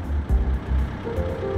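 A truck reverses inside the video game SCHiM, its engine rumbling steadily beneath a repeating reversing beep, clear and moderately loud over a brief stretch.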